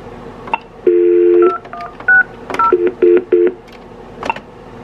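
Touch-tone keypad beeps ring out as someone dials a telephone while logging in for an IT support dispatch shift at home: a rapid series of short, loud, clean tones in an uneven rhythm, with no voices.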